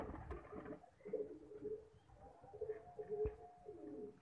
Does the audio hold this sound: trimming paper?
no